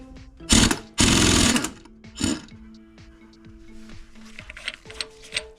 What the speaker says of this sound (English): That bolt came out really easy, much easier than I thought with that air impact.